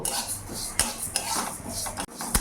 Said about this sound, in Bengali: শুকনো কড়াইতে মুগ ডালটা আমি ভেজে নেব।